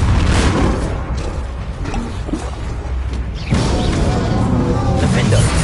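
A Confringo spell explosion in a wizard video game, heavy booming blasts and crashing impacts with whooshes, loud and close, overlapping a shouting voice and other spell sounds.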